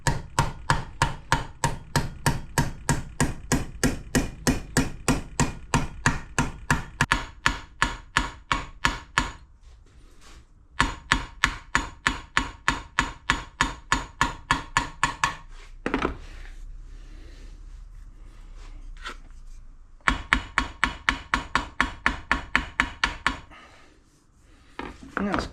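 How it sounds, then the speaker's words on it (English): Repeated sharp hammer blows on metal in fast, regular bursts, hammering out dents in motorcycle metal bodywork, separated by brief pauses and quieter scraping sounds. "Obviously when you're hammering in areas, it is trying to pop back out in other areas further around."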